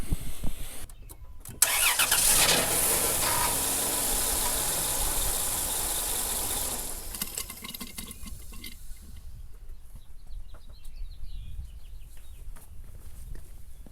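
A 2002 Dodge Caravan engine cranks, catches and runs loudly for a few seconds during a power steering reservoir refill, then shuts off, leaving quieter ambient noise.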